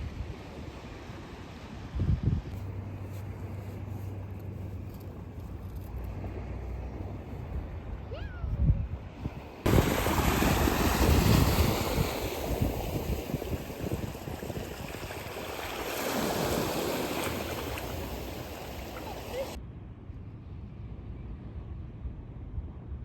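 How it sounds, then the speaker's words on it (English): Waves wash steadily along Kenai Beach, Alaska, under gusty wind that buffets the microphone, with a louder surge of surf and wind in the middle stretch before it eases back to a softer wash. "So I've just been sitting here at the beach watching my kid play in the sand"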